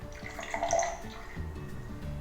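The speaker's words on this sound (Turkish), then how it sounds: "öncelikle gül suyumuzu atıyoruz" Rose water is poured into a glass for a strawberry-scented rose drink, a short, close liquid trickle that swells and then fades within about two seconds.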